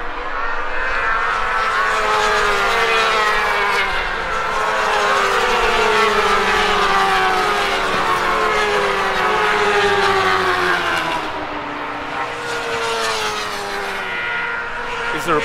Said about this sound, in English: we've got the British Superbikes come out now for qualifying